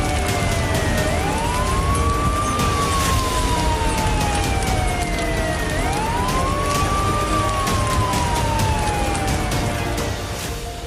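Fire engine sirens wail with a rising and falling pattern, two slow cycles, over a steady rumble of traffic during a night fire response in Moscow.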